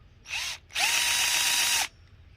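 A handheld drill spins against the starter of a HoBao Hyper nitro RC cage buggy engine, giving two whirring bursts: a short one, a brief pause, then a longer steady run of about a second.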